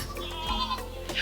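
Goats bleat on a crowded farm enclosure, overlapping wavering calls close by over a steady low background hum.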